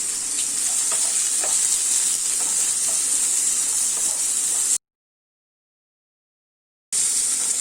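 Steady, bright sizzle of onion, garlic and green chillies sautéing in a hot pan, with a few soft stirring clicks, broken by a short stretch of silence before the sizzling resumes.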